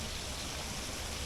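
A river flowing beneath a canal that crosses over it on a bridge, heard as a steady, broadband rush of moving water, close and continuous with no voices.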